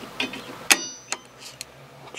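A center punch strikes metal to mark it before drilling: one sharp, bright metallic tap stands out, followed by a few smaller ticks and clicks, close and distinct against a quiet workshop background.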